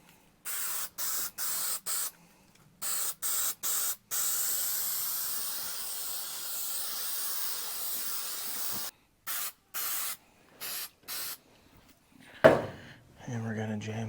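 A spray can sprays onto part of an International 1110 pickup truck during a build, as a series of short hissing bursts, then a long continuous hiss, then more quick bursts. A voice speaks briefly near the end.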